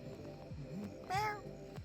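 A cat meows once near a roadside gas station, a short rising-and-falling call standing out over low background rumble and a few soft knocks.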